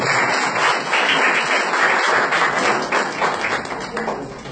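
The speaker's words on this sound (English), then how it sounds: "Applause for her." A school audience of students and teachers gives loud, dense applause for a student. Many overlapping claps form a steady roar that eases slightly toward the end.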